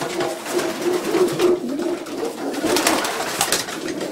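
Pigeons coo in a loft beside their nests, with repeated soft, throaty calls, close and fairly loud, over light rustling and no talking.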